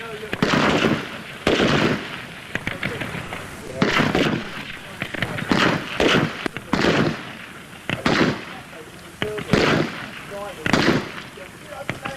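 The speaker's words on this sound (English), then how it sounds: "You'll fire 5 rounds at each target. Watch and shoot." Rifle rounds fired at targets on an outdoor military training range, a steady series of loud sharp cracks in irregular rhythm amid range noise and some shouted talk.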